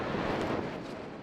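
Gusting wind buffets the rim of the Nyiragongo volcano crater, a steady broadband roar pressing close on the microphone without a break and no voices present.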